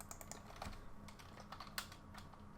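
Quiet, rapid keystrokes on a computer keyboard while working in Unreal Engine Blueprints, a soft irregular clatter of taps heard alone without speech.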